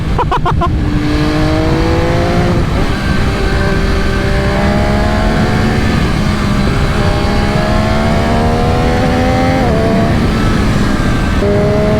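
A 2020 MV Agusta F3 800 RC race motorcycle engine revs hard and climbs through several gears, with rising engine pitch repeating steadily over a loud, continuous roar and no talking.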